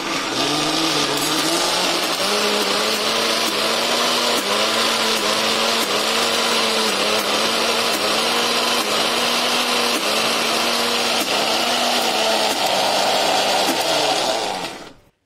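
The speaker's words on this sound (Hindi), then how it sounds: "अब इसे फिर से ग्राइंड करने के लिए रख देंगे।" A kitchen mixer grinder churning soaked dal for vada runs loud and steady, with a whirring motor tone that wavers slightly. It sounds alone, close up, and cuts off abruptly at the end.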